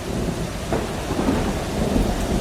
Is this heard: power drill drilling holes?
no